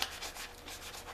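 Abrasive pad rubbing the metal roll cage of a Jeep Wrangler before painting, a quick series of close, soft scratchy back-and-forth strokes in a steady rhythm.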